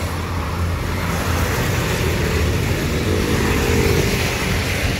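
Dense morning road traffic of private vehicles forms a steady, loud roar of passing engines and tyre noise with no talk.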